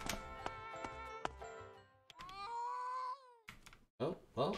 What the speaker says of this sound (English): Oh, well, sounds like the cat's dying.